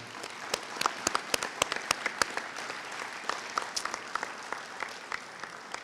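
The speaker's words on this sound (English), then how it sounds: "I'd like to give them a round of applause right now, too, before I sit down." Banquet audience applauds the alumni board of directors at a homecoming hall of fame and alumni recognition banquet, a sparse, moderately quiet patter of individual claps with distinct sharp hand strikes standing out throughout.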